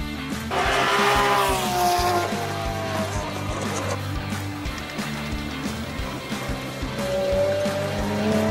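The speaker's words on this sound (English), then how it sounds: "Car racing." Race cars roar past on a track with sharp, sliding tire squeals near the start and again toward the end, over a continuous loud engine rumble.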